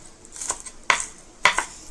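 Sharp knife strikes on a cutting board, two crisp chops with softer scraping cuts in between, close up.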